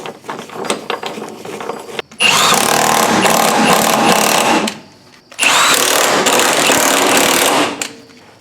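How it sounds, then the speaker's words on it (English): Power tool driving bolts on the front sway bar of an Impala, two long loud sustained bursts of whirring, separated by a short pause, after quieter mechanical clatter. "Now you can put these bolts in."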